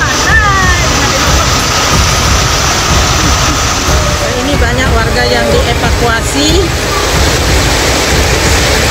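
Heavy floodwater rushes in steady, loud roaring noise during torrential rain in Lembah Sari village, Batu Layar district, with someone speaking over the continuous torrent.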